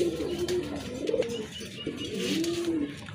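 A pair of fancy pigeons cooing close by, several soft rolling coos in succession over a quiet background.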